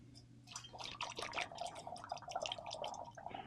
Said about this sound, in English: I'm going to try to pour this into the funnel without making a mess.